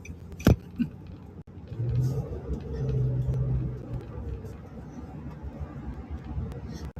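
Road traffic with cars passing, a low rumble of engines swelling and fading in the background, with a sharp knock near the start and a voice speaking faintly.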